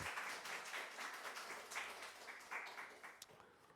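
A church congregation claps during an early-morning prayer service in a church, the applause fairly faint and steady for a few seconds before tapering off near the end.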